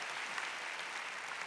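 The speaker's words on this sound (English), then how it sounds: "Let's give the Lord a big hand clap, shall we?" A church congregation claps for the Lord after a sermon, a steady, dense wash of applause that carries evenly through the short stretch with no voice over it.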